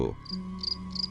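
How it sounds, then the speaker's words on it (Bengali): Crickets chirp at night in steady, evenly spaced bursts against a quiet low hum, with a brief soft thump at the start. "হঠাৎই ঝিঝি পোকার ডাকের মাঝে"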